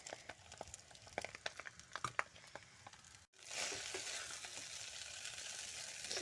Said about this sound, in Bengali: এবার এটাকে আমি ভাজবো। চলো একটু একটু করে ভাজি, সব একসাথে ভাজবো না,